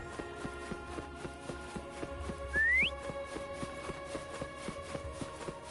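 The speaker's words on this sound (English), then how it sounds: "Try whistling." A single short rising whistle in a video game, used to call a creature named Foam, heard once over soft rhythmic footsteps and quiet background music.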